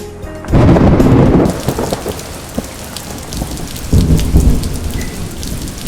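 Loud, heavy rain pours down in Wayanad, Kerala, with deep rumbles of thunder rolling in twice, close and continuous throughout.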